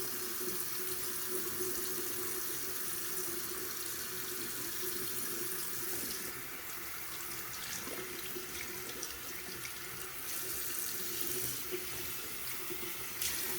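Warm tap water runs steadily into a sink while an oil paint brush is washed with bar soap, a close, continuous hissing stream with faint splashes as the brush moves through it.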